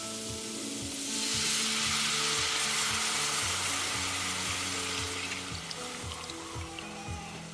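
Milk poured into a pan of sausage gravy sets off a broad hissing rush that swells then settles into a steady simmer with stirring, close and moderately loud, without talk.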